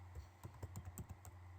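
Typing on a computer keyboard: quick, irregular keystrokes, faint and near, over a steady low hum, with no voices.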